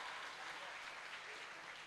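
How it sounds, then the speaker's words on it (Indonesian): Audience at an Indonesian santri talk show applauds steadily, a dense, even wash of clapping that holds for the whole short stretch with no voices over it. "Tepuk tangan dong buat Gus Rizky."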